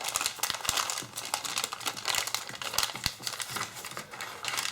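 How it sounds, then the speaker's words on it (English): Origami paper being folded and creased flat by hand, up close: quiet, irregular crinkles and soft crisp taps of paper layers being pressed down, with no talking. "I'm just going to fold it down again."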